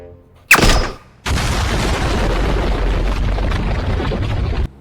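A video-game laser gun fires at zombies in a cemetery: one sharp loud blast, a short pause, then a long dense burst of continuous rapid gunfire that cuts off abruptly.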